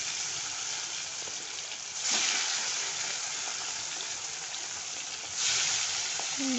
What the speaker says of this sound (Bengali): তেলটা গরম হলে মাছগুলো ছেড়ে দেবো এক এক করে।